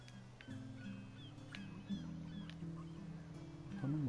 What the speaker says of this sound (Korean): 아무 생각 없는 갈매기들.